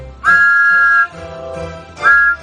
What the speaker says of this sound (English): Spencer blew his whistle, and Thomas whistled back.